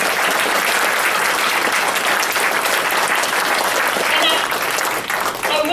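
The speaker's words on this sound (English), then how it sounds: "Let's give all four candidates a round of applause." A seated audience at a candidates' forum gives a long, loud round of applause for four candidates, dense steady clapping close up, with a voice breaking in near the end.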